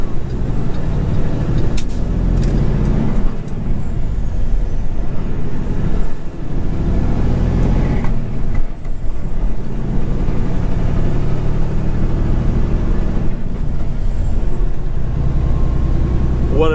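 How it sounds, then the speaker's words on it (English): A semi truck driving with gears shifted without the clutch, a loud steady diesel drone inside the cab that dips and rises between shifts, with air-brake hisses and whines on top and no clear talk. "See, I can shift gears a lot better without the clutch."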